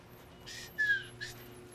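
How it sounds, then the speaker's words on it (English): A person attempts to whistle and does it poorly, giving two or three short breathy, airy bursts with a thin tone, fairly close against a quiet background. "that was a terrible whistle"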